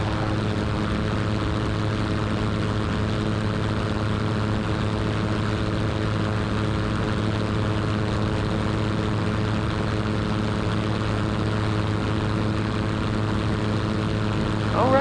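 A seaplane's propeller engine drones steadily at full power in flight, a loud, constant, close cabin hum with no change in pitch for the whole stretch.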